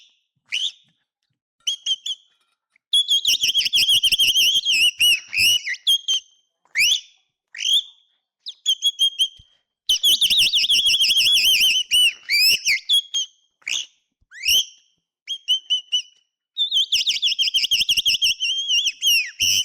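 A person whistles an imitation of a chaffinch call: bursts of sharp, trilling and warbling whistled phrases separated by short silences, clear and close.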